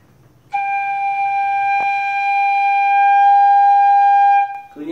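A single long, steady note is held on a six-hole bamboo flute, clear and breathy with strong overtones, lasting about four seconds up close with no talking over it.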